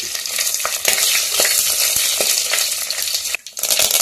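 Cumin, coriander seeds and chilies crackle and sizzle in hot oil in a pan, a loud continuous frying hiss with scattered pops and stirring scrapes, briefly dipping before resuming.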